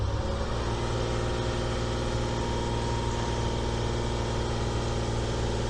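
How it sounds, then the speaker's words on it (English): A faulty Citroen C6 engine runs steadily close by on a dyno, a continuous low mechanical drone with a slight rise in revs and no voices. "if I bring the revs up"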